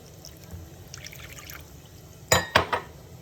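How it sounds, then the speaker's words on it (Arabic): Water is poured over starch in a kitchen pot for a garlic sauce, a short splashy pour of about half a second with a second brief splash after a faint clink, quiet otherwise. "بداية رح نحط النشا والمي ونخلطهم على البارد."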